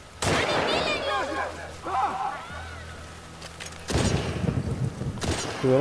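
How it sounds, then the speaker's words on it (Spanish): Sharp gunshots ring out in a firefight in The Last of Us Part II, scattered between shouting voices, with a heavier cluster of loud shots near the end. "Tuvieron bueno los balazos."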